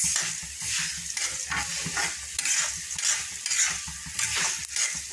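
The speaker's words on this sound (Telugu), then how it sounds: "పప్పులన్నీ ఫ్రై అయిపోయినాయండి." Lentils fry in a pan for karam podi, a continuous close sizzle with rhythmic scraping and stirring strokes running throughout at a moderate level.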